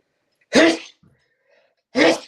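Two loud, close sneezes from a person, separated by about a second and a half of near silence.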